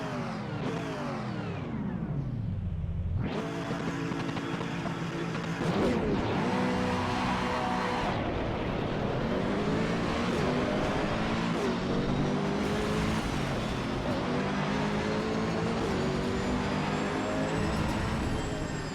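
Race car driven in Assetto Corsa EVO, engine roaring and sweeping up through the revs with repeated gear shifts, steady and loud with occasional tire noise and no talking.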